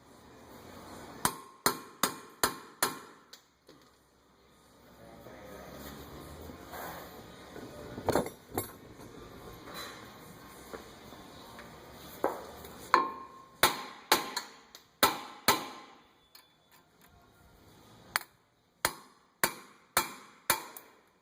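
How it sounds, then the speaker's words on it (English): Repeated sharp metal hammer blows on an impact driver with a Phillips bit, loosening a bolt during front brake pad replacement on a 2007 Acura RDX, struck in quick bursts of three or four with brief pauses, close and loud. "I'm using an impact driver with a Phillips bit and a hammer."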